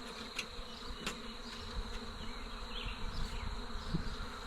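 Dense buzzing of many honey bees from a small wild swarm fills the air continuously, a close, steady drone with no voices.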